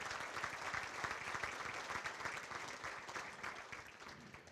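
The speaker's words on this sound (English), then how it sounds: "Let's give these committed ladies and gentlemen a round of applause." Banquet audience at a university athletics scholarship dinner claps for standing board members, a steady, moderately distant round of applause with individual claps audible throughout.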